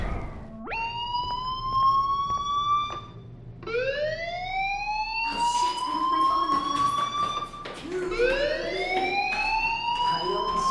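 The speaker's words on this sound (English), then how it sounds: "Hey, do you hear that fire alarm? That means you should be outside." A fire alarm blares in the video game Life Is Strange: repeated rising electronic whoops, loud and steady, each climbing sweep restarting over a background hum, with no voices.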